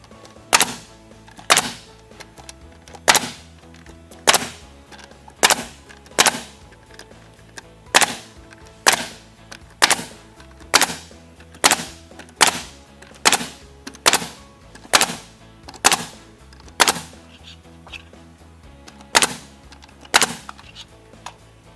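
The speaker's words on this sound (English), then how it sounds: "Then we continue our nailing." LP SmartSide vertical siding being nailed: sharp, loud nail-gun shots fire in a steady rhythm, about one every second, close by, around twenty in a row.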